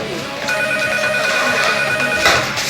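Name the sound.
telephone ringing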